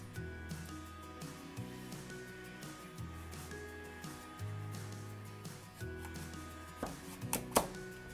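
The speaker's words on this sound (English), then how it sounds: "Cut your squash in half lengthwise." A knife slicing lengthwise through a whole acorn squash. The cuts make faint, soft crunches and a few sharper cracks near the end, played quietly beneath steady background music.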